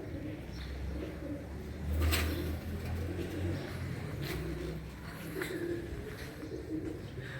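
Pigeons coo at a rooftop pigeon-keeping setup, low repeated calls rising and falling over a steady outdoor hum, with a few brighter chirps and knocks scattered through.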